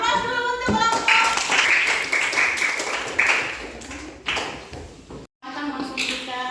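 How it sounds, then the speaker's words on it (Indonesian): A classroom group is applauded, with a dense, steady patter of clapping from many hands running throughout and a brief drop near the end, while voices murmur underneath. "Aplaus dulu untuk kelompok"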